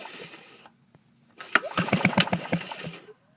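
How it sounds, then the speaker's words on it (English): A Victa push lawn mower, its start cord pulled to test the spark, gives a brief rattling cranking burst at close range after a quiet pause, fading quickly without the engine catching. "we're going to test this spark plug by holding it here and pulling the start cord"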